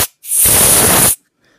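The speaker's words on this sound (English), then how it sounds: "So a can of duster, you can use that." A can of compressed air duster blasts into a Zippo Blu lighter for cleaning, one loud, sharp hissing spray lasting just under a second, close up and alone.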